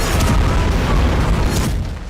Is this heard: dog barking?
no